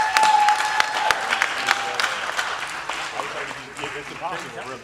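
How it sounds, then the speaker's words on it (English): An audience at an acting challenge event claps for the actors, a burst of applause that stays strong and then gradually thins, with voices talking over it. "Please give a round of applause for all of these amazing actors."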